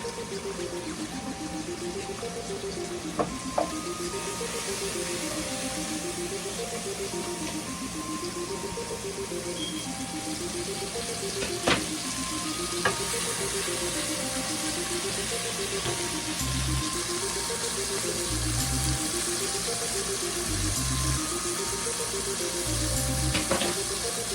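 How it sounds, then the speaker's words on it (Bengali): Fish frying in oil before bottle gourd leaves are added: a continuous, even sizzle holds across the whole stretch with no talk, joined by a low rhythmic warbling hum and a few faint clicks. "এবার আমি মাছটা বেশ কিছুক্ষণ ভেজে নিলাম, লাল লাল হয়ে গেছে"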